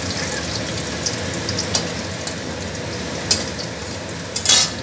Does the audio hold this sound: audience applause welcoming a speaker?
no